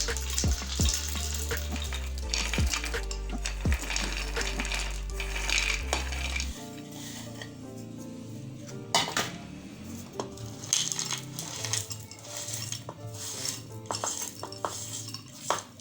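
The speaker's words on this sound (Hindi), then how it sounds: "सबसे पहले हम चने डालेंगे ग्राइंडर में।" Chickpeas poured into a grinder jar make a hard, rattling clatter of dry grains hitting the jar, in steady cascades with scattered clinks and no talk.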